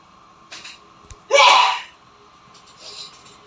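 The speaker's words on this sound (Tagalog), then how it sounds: "Sorry po, may bumahing." A person lets out one loud, abrupt sneeze in a home kitchen while afritada cooks, preceded and followed by faint soft sounds in a quiet room.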